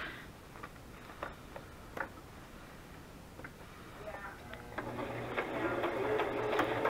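A sewing machine stitching a zigzag on book pages. A few light ticks and clicks come first, then the motor runs in a steady, rapid mechanical whir toward the end. A voice is faintly audible in the background.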